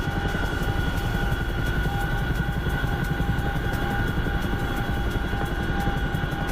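Helicopter flying in a video game, a steady rhythmic rotor thump with a constant engine hum and tonal whine, close and continuous with no talk.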